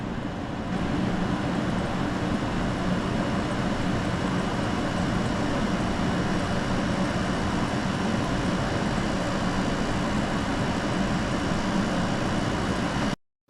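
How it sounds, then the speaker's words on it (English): A Toshiba portable air conditioner running with cooling on, a constant even roar of airflow and compressor hum at steady volume, cutting off abruptly at the end. "Air conditioner noise now."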